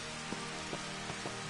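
Steady rain patters across a city street in the Final Fantasy XV Platinum Demo video game, a dense continuous hiss with a few soft thumps, faint and unbroken.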